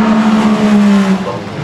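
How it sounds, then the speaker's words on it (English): Race cars at the Nürburgring, including several long-tail cars and a sequential-gearbox car, make a loud, steady engine drone with a sustained tonal whine close by that eases slightly near the end. "This group, they were racing several cars"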